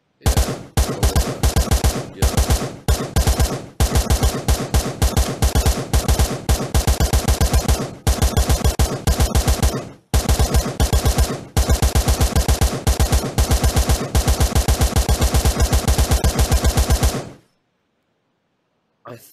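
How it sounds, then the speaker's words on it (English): Rapid automatic gunfire from a modded weapon in the VR game Blade & Sorcery: Nomad, loud and continuous in dense bursts with brief gaps, stopping abruptly near the end. "Let's try... fast shooting on these people."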